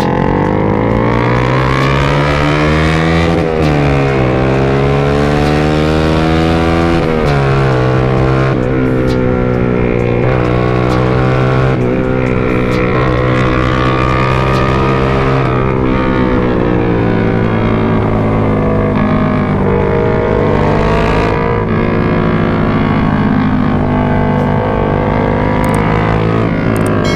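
Yamaha Aerox and MX motorcycles ride at night, their engines loud and close as they rev up and down in rising and falling sweeps through the whole stretch, with no voices on top.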